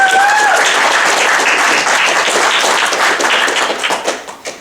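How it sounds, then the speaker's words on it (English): At a presentation evening, an audience gives a loud, dense round of applause that starts at full strength and gradually tapers into scattered claps near the end. "So a round of applause."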